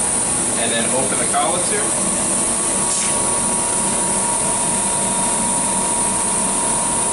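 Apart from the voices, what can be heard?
Royal Master needle grinder finishing a grind cycle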